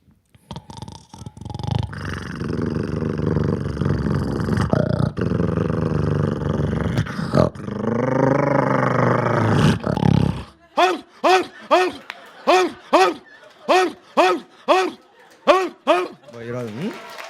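A man imitates a growling dog with his voice, first a long rough rumbling growl under talk-like tone, then a series of short rhythmic snarling bursts, close and loud.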